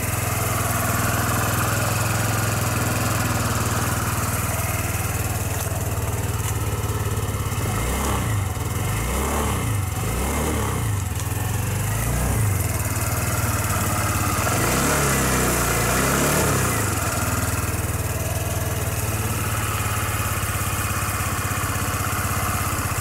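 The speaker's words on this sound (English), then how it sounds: "So that is quite quiet running." A Sym Symply 2 (Orbit) scooter engine runs quietly at close range with a steady, low hum. The engine rises and falls gently in a few spots, and no one speaks.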